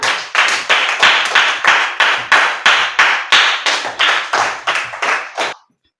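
Children in a classroom clap for a classmate in a loud, even rhythm of about fifteen sharp claps that stop abruptly into silence.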